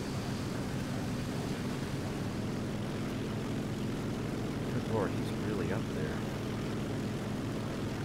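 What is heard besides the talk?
Focke-Wulf Fw 190 propeller plane engine in video game War Thunder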